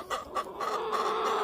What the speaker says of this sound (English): I've got to feed the chickens this morning.